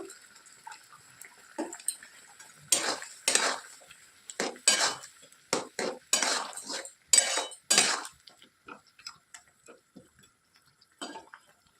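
Butter chicken masala sautéed in a pan, heard as a run of close metallic scrapes and clinks of a spoon against the pan in irregular bursts, with quiet gaps between strokes and no talking.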